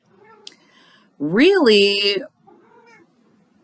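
A house cat lets out one long, loud, rising-and-falling meow, close by, between stretches of quiet talk.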